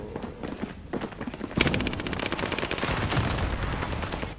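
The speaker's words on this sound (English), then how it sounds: "There's two of them shooting me" Video game shootout with double-barrel shotguns: a loud, rapid string of gunshots bursts in after a quieter opening and keeps firing steadily to the end, close and dense.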